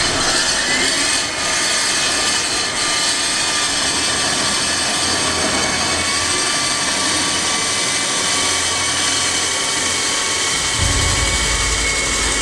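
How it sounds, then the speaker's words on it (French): Core drill grinding a bore through a concrete slab or wall during an urban search-and-rescue drill, a loud steady roar that runs the whole time with no pause. "ici on a une carotteuse"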